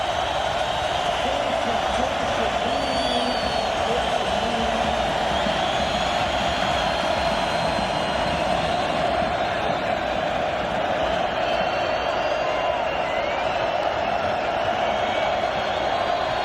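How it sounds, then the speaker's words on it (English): A stadium crowd at the 2000 AFC Divisional Playoff between Miami and Oakland roars continuously at a steady, loud level, a broad sustained wash of voices with no breaks. "Listen to the crowd."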